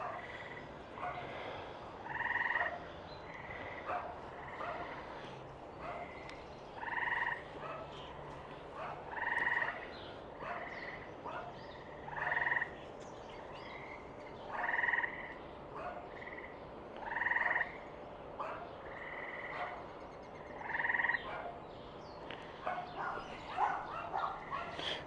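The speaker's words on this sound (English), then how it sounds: "I've been hearing the frogs all afternoon." Frogs croak in a steady evening chorus, repeated bursts of calls rising every couple of seconds over a soft, continuous outdoor background, moderately near with no talking.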